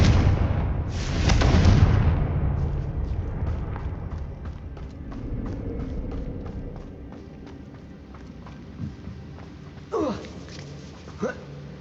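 Fire-curse spell blasts in Hogwarts Legacy: a big booming burst up front, then a rumbling tail with scattered crackles and thuds, and a few sharper impacts near the end.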